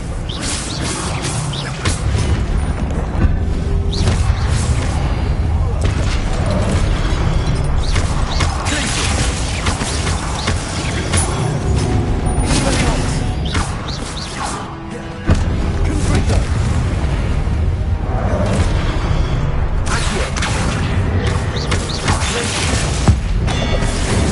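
Confringo explosion spells blast statues in a Harry Potter video game, with repeated crashing booms, smashing debris and mechanical clatter piling up loudly and continuously, and a voice speaking now and then.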